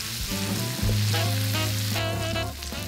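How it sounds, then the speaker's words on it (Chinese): Two tablespoons of Sichuan mala chili sauce stir-fry in a wok over medium-high heat for mapo tofu, a loud close sizzle that swells and crackles steadily. "在锅中加入2大匙火星小厨秘制麻辣酱，用中大火炒出香气"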